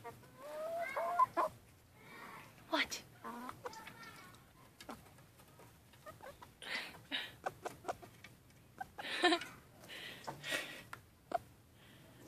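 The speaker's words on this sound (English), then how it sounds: "Good chicken." Chickens cluck and squawk in short, irregular bursts close by, with a few louder calls standing out, while a person talks intermittently between them.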